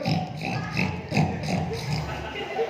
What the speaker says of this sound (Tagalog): Nag-iingay lamang yung baboy.